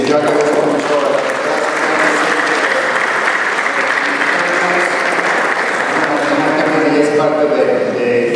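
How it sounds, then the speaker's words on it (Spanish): Sustained applause from an audience at a Mexican family medicine certification council ceremony, honoring the board of directors, steady and dense throughout with no break. "es meritorio de toda su junta directiva que le demos un aplauso a ellos"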